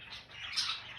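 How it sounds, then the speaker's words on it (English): Pet parakeets chatter inside a cage, a dense stream of high, scratchy chirps and tweets running continuously at close range, with no talking. "Lots of chatter coming from this cage. These little parakeets."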